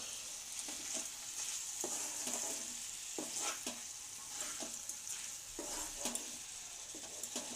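Cauliflower stalk curry being stirred in a pan, a steady sizzle with repeated scraping strokes of a spoon at an irregular rhythm, close and fairly loud, with no voices.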